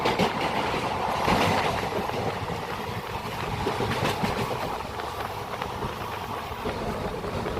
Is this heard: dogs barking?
no